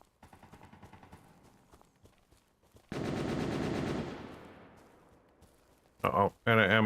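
A main gun fires in a video game in a rapid mechanical burst, then a loud sustained blast that slowly fades, followed by two sharp loud bursts near the end.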